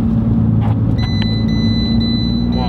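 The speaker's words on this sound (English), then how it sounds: "Now I'm just accelerating right now. Sounds sporty, feels sporty," A 2012 Fiat 500 with 104K miles accelerates after a U-turn, its engine a steady, loud low drone heard from inside the cabin, with faint high whines and small interior clicks over it.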